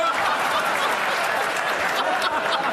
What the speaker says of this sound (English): I want to stop the clapping.